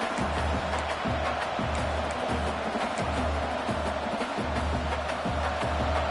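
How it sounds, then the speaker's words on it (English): A roaring football stadium crowd, a steady dense wall of cheering and noise that holds loud and unbroken throughout, with a faint rhythmic low pulse beneath it. "This place is roaring"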